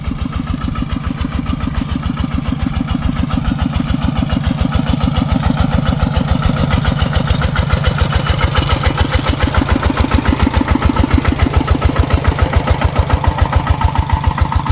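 A tractor engine, used for pumping water in a rice field, chugs steadily at idle, a close, loud, rhythmic low putter that holds for the whole stretch with no talking.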